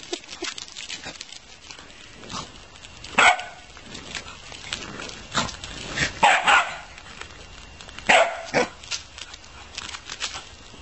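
Dog barking in short yips and bursts amid snorting and pattering while playing with balls on ice, nearby and moderately loud, with a few louder barks spaced through the clip.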